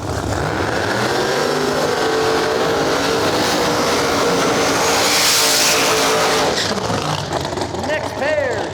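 Drag racing cars at Rockingham Dragway in North Carolina, during a no-prep event, roar through burnouts in a continuous loud engine blast that swells midway and fades toward the end.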